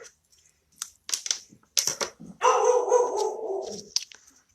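A pet dog barks indoors in a few separate bursts near the mic, with one longer, louder bark-like stretch in the middle, then quieter sounds at the end.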